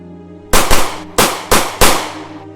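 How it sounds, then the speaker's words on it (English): Four sharp, loud gunshots ring out in an irregular sequence, the first two close together, each with a brief echoing tail. "5 gunshots were heard."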